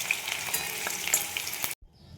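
Cumin seeds sizzling in hot oil for tempering in a pan, a dense bright crackle close up that runs steadily and then cuts off abruptly near the end, leaving faint sizzle.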